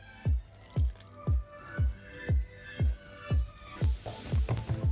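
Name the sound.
warm water drizzled into pork fat and flour dough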